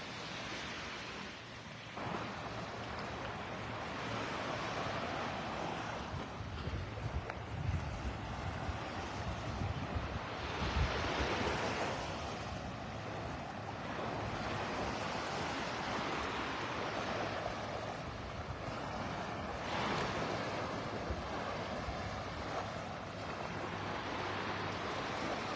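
A light breeze buffets the microphone on a beach at Delnor-Wiggins Pass State Park, Naples, giving steady rumbling wind noise with surges, mixed with soft surf wash and no talking.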